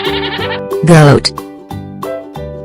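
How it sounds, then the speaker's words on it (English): A sheep bleats once, a wavering nasal cry standing out over a bouncy children's animal train tune that plays on either side of it. "Sheep."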